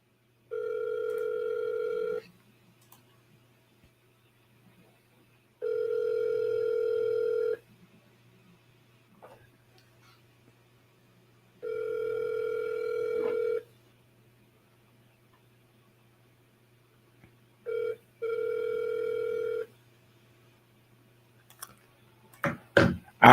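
An outgoing telephone call rings out unanswered: four long, steady double-tone ringback pulses repeat at even intervals over faint line hum, then a clatter at the end as the line cuts off.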